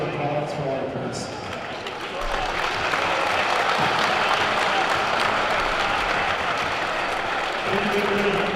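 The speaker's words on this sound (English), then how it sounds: "let's have a big round of applause for our parents" Crowd applause at a boys high school basketball game in a gym, sustained clapping and cheering rising after a couple of seconds and continuing steadily, with a voice over a public address at the start.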